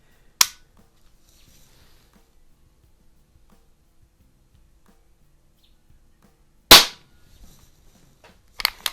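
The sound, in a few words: break barrel air rifle shot, RWS Diana P5 magnum vs Snowpeak SP500 .177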